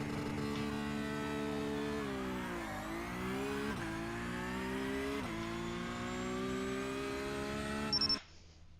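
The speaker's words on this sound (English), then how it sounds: "the engine sounds like the clutch sounds like it's slipping too much" A Porsche Cup race car engine in the iRacing simulator at Brands Hatch, droning and rising in pitch unevenly as a slipping clutch lets revs climb, dip and climb again before cutting off abruptly near the end.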